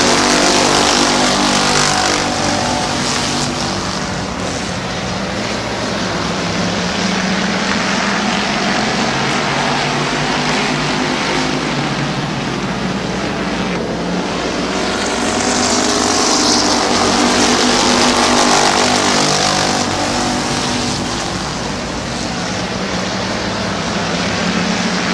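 Race cars at Midvale Speedway roar around the track in a sustained loud engine drone that swells and fades slightly as they pass, with no voices over it.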